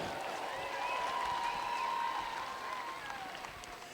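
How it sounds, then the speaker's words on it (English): A crowd at the Sydney Royal woodchopping and sawing competition applauds the New Zealand men's international relay team, a sustained wash of clapping heard from a distance with an announcer's voice carrying over it. "How about a big round of applause?"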